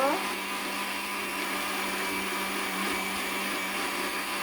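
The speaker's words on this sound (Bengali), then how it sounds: "পানিটা দিয়ে খুব সুন্দর করে কিন্তু ব্লেন্ডারটা করে নিব" A kitchen blender runs steadily, grinding sesame seeds with water, along with garlic, green chillies and onion for a small-shrimp sesame dish. The whirring motor holds a constant loud drone throughout, with a voice faintly present beneath it.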